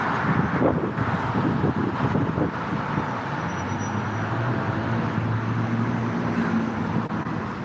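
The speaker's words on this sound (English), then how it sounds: "That is one strong gust of wind." A strong gust of wind roars on a street in Dalton, Georgia, near traffic lights, as a loud, continuous buffeting rush with a low rumble of traffic underneath.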